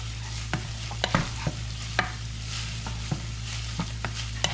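Chopped onions and seasonings are stirred with beef in a pan for enchiladas, a soft sizzle under a handful of distinct utensil scrapes and clicks spaced irregularly, close and fairly quiet.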